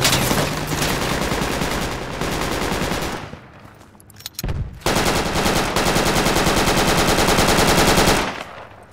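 Heavy automatic gunfire in Project Reality during an attack on a Humvee crew, long loud close bursts nearly filling the clip, broken by a brief lull with a few isolated shots midway.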